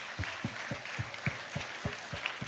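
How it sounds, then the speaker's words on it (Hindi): Students at a school sanitation and hygiene awareness session applaud the 5th class children, heard as a steady, rhythmic series of claps, roughly three per second, in unison at moderate distance. "जोरदार तालियां पहले 5th क्लास के लिए"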